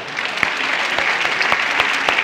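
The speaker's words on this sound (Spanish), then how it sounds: "Un aplauso para ella." A live comedy show audience claps in a brief, dense burst of applause, steady and fairly close, with a faint voice mixed in.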